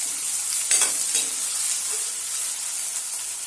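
Ginger sizzling and frying in oil in a pan while being stirred for an egg lababdar, a steady close hiss with a few scraping stirs near the start.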